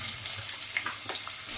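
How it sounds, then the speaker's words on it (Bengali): Diced potatoes fry in hot oil for a jackfruit curry, giving a steady close sizzle with faint crackling pops and no talking. "আলুটা একটু ভাজা ভাজা করে নেব।"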